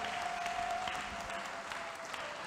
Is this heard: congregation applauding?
yes